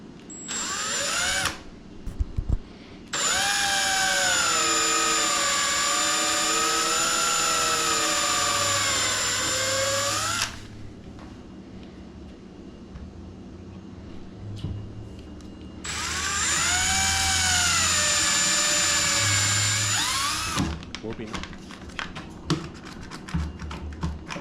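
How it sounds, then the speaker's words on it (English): A power drill whines steadily in two long bursts while pre-drilling a screw hole for a cabinet being hung on a French cleat, with quieter handling and knocking sounds between the bursts. "So we pre-drill that."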